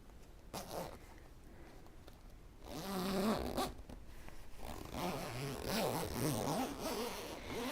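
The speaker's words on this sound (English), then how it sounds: "I'm having a terrible time with the zipper." A zipper is worked on the canvas leader of a quilting machine, with repeated scratchy tugs of the pull that become louder, denser zipping strokes in the second half, close up and with no talking.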